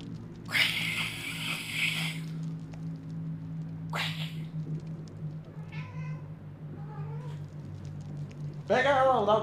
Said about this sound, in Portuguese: Vou fazer rinha de gato.